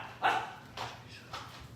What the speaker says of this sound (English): That's my dog Tucker.